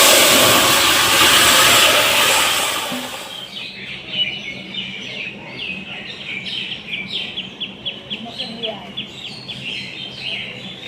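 Cumin, bay leaves and dried chilies sizzling in hot oil, a loud close hiss that fades after a few seconds, leaving birds chirping in the background.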